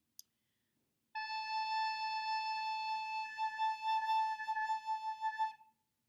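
A single glockenspiel note of middle pitch rings out clear and sustained for several seconds after a faint tap, then fades away.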